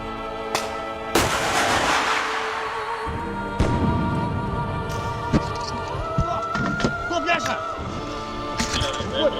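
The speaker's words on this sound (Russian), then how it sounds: "Выстрел!" A sharp, loud gunshot cracks out, followed by further booming blasts and scattered thuds, with talk and background noise throughout.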